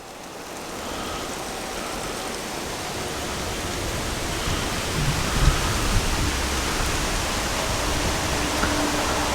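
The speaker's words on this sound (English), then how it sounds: "here's where the water's coming out of that hose. It's just dribbling onto some rocks right now" Water dribbling from a hose onto rocks in a creek, a steady, dense splashing and trickling hiss that continues evenly throughout, heard close and without any talk.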